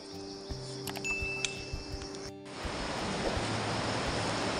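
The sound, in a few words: mountain river flowing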